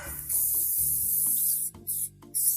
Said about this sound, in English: I do still like to spray it with my extra virgin coconut oil.